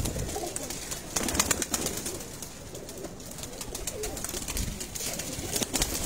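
Pigeons, including one about eight years old, coo softly amid a busy, noisy background in Lyari, Karachi, with scattered fluttering and rustling throughout.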